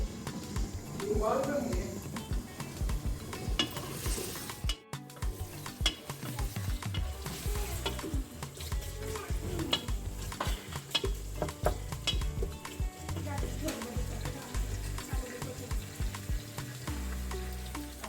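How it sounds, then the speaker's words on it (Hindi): Onions sizzle in a pan for kaddu gosht, with a utensil scraping and stirring through them in repeated strokes and a few clinks against the pan, while someone talks over the cooking. "बस ऐसे हल्के हल्के प्याज लाल करने हैं ज़रा।"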